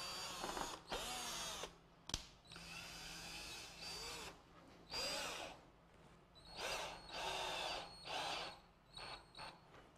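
A power drill backs a screw out of a bonsai fixture for an Acer kaede, whirring in repeated close bursts with brief pauses between them, loud and clear with no talking.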